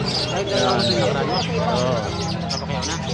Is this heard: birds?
yes